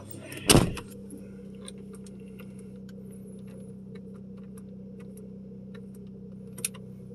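A single solid thump of a car door shutting near the start, followed by a steady low engine idle with a faint click near the end.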